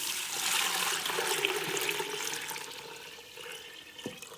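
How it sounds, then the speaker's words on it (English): Water is poured into a soup pot of sautéing carrots and celery for ham and potato soup, a steady rushing splash that fades slightly toward the end, with no talking. "I'm going to add some water."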